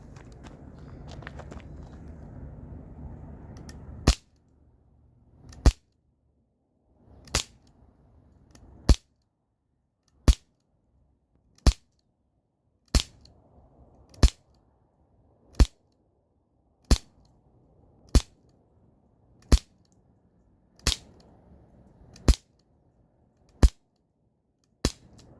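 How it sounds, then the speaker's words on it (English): Umarex Glock 19 Gen 3 BB pistol fires 16 sharp, snappy shots at a steady pace, each a crisp crack, following a few seconds of handling noise. "So that was 16 shots. The Glock 19 Gen 3."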